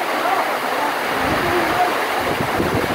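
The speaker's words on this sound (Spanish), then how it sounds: "se dejó venir la lluvia" Steady heavy rain pours down outdoors near a dam, a loud dense hiss filling the scene with faint low rumbles beneath.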